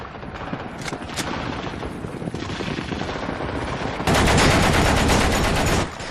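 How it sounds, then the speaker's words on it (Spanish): Machine gun fire from emplaced guns on the frozen Baltic during a sailors' revolt, continuous rattling bursts under a rumbling battle din that swells into a louder, denser volley near the end. "Para impedirles retroceder, la policía política emplaza sus ametralladoras."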